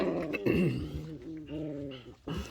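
A doodle puppy growls and vocalizes in close, rising and falling whiny rumbles, several short bursts broken by brief pauses, with no human talk.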